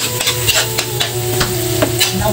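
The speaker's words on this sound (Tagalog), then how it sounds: "Lagay na natin yung bawang guys sa ating butter." Garlic sizzles in melted butter in a pan, a steady close crackle with a few sharp scraping stir strokes on top, no voices.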